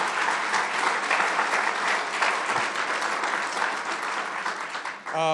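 A crowd at a Buffalo announcement of a ramp linking the Peace Bridge to northbound I-190 gives Commissioner Matt Driscoll a big round of applause, a steady, dense patter of clapping that holds evenly, then a voice starts speaking at the very end.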